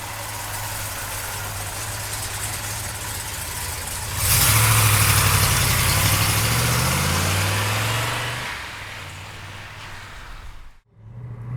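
A 1970 Chevrolet Chevelle with a big block V8 and four-speed idles with a deep steady rumble, then swells into a louder revving surge before settling back and cutting out near the end.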